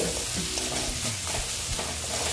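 Spices frying in oil and stirred in a pan for an egg and potato curry, with a continuous close sizzle and repeated scraping strokes of the spoon.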